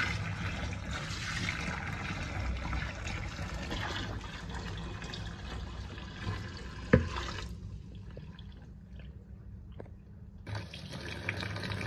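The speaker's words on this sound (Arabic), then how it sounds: "بصوا بقى الميه السخنه هتنزل على المسحوق والبيكربوناتو" Hot water runs from a tap onto baking soda powder in a sink drain, a steady close hiss and splash that cuts out abruptly, leaving a quiet gap with a couple of faint knocks before flow resumes.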